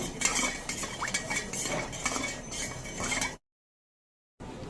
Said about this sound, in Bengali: 2 চামচ চিনি দিয়ে জলটা ভালো করে চিনিটা আর লবণ গুলিয়ে নেব।